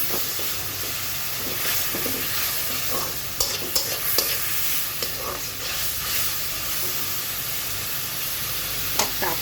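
Onions frying over lowered heat in a zinc wok, a steady hissing sizzle with occasional clinks and scrapes of a spatula against the metal.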